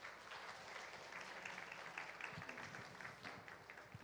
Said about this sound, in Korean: 목사님 나오실 때 뜨겁게 박수하겠습니다